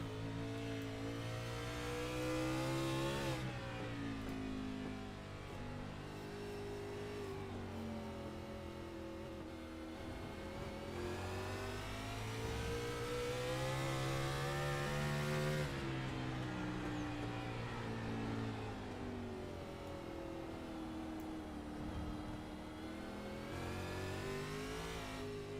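A race car in a sim racing game at the Charlotte Roval accelerates through turn one, its engine revving steadily upward and dropping at each gear change, a sustained loud drone with no talking over it.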